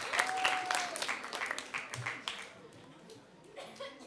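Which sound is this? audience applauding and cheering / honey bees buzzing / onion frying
audience applauding and cheering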